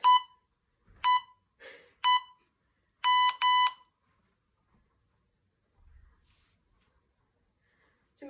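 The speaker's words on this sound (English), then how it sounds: "Listen for the beeper." A workout interval timer beeps close and loud: single beeps, then a quick double, followed by quiet breathing and faint movement sounds.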